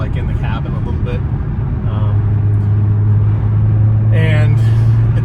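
Cabin drone of an Audi B9 S5 fitted with a RedStar downpipe, driven in sport mode with the sunroof vent open: a steady low engine hum that rises slightly in pitch, with a person talking over it.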